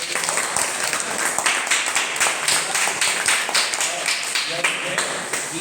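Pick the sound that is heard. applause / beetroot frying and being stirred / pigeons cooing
applause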